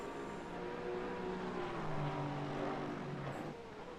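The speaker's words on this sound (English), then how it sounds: "Make a good noise too, the Astons." An Aston Martin race car in Assetto Corsa Competizione roars at a steady drone, with rising engine tones and a quiet gearshift. The sound is faint and distant, with no talk.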